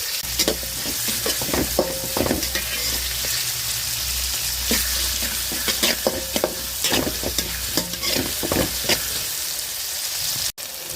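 Small shallots sautéing in a pan for goat head curry gravy, a steady close sizzle with frequent scraping stirs of the spoon throughout, no voices.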